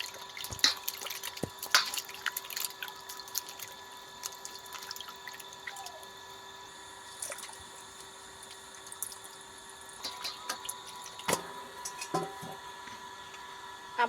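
Ash gourd pieces are washed in water, with scattered drips, trickles and small splashes over a quiet background and no talking.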